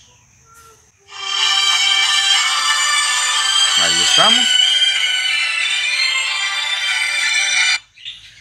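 A phone rings with a continuous, loud electronic ringtone for about seven seconds, triggered by an incoming call from a GSM alarm system's panic button; someone speaks briefly over it near the middle.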